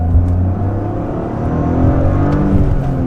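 A Toyota GR Corolla's engine revs and pulls from inside the car, a loud, steady drone with rising pitch as it accelerates, alone without talk.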